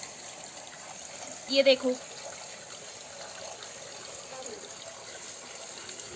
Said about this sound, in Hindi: जो कि ज़मीन के रास्ते से पानी आ रहे हैं